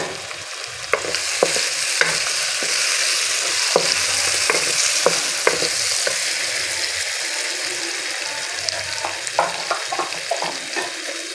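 Two tomatoes hit hot oil and spices in a pan of moong dal tadka, raising a loud, dense sizzle with repeated sharp clacks of a spoon stirring against the pan.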